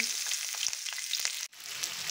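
Onions with cumin seeds frying in a pan for a chutney, giving a steady close hiss of sizzling oil with faint stirring clicks and one brief dip near the end.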